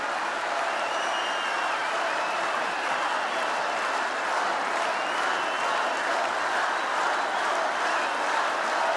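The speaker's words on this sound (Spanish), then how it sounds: "por eso aplaude y por eso vitorea y se para" Steady, loud applause and cheering from a large festival audience at the Quinta Vergara amphitheatre in Viña del Mar, a dense unbroken roar of clapping lasting throughout.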